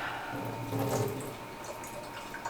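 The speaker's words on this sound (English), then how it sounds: "get some lukewarm water, which should feel not cold, but not really hot" Lukewarm water runs steadily from a kitchen tap for pizza dough, a continuous close splashing stream with a brief louder surge near the start, with no talking.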